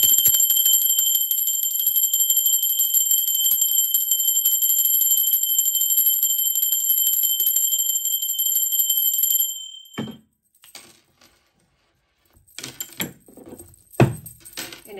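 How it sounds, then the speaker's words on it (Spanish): A bell rung to open a spiritual tarot reading gives a long, steady metallic ring that sustains for about nine seconds before cutting off, followed by a few soft knocks and handling sounds. "Ahora sí, va campana"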